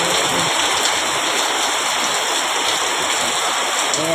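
Heavy rain pours steadily in a dense, unbroken hiss, loud and close, with no voices.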